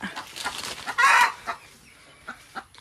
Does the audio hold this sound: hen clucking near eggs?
yes